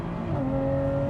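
A Lotus Evora's engine holds a steady, loud tone with a clear pitch step partway through as it shifts gears, heard close and continuous with no talking.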